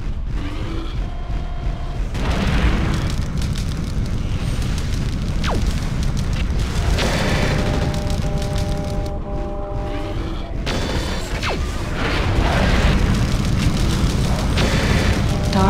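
Explosions of destroyed targets in the mech combat game MechWarrior 4: Mercenaries, with heavy booming blasts and rumbling fire over continuous battle noise, several distinct bursts across the span and a steady loud din between them.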